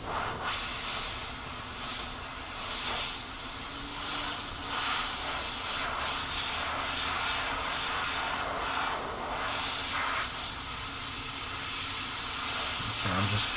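Paint sprays steadily onto the hair of a She-Hulk bust, a loud continuous airbrush hiss close by that swells and eases with the passes, running without pause.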